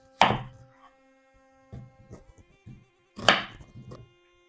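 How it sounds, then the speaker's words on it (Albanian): A knife chops another onion on a cutting board, giving two loud close strikes about three seconds apart with a few lighter taps between them and nothing else heard. "Mënyrën e njëjtë bëj coptimin dhe të qepës tjetër."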